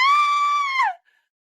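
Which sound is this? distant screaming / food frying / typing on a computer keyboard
distant screaming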